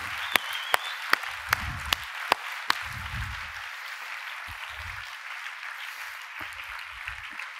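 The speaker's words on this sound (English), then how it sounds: "give a great round of applause for everybody" A conference audience at a service design talk claps for the organizers, with a few sharp, separate claps standing out over a soft, thin patter that fades toward the end, and faint voices in between.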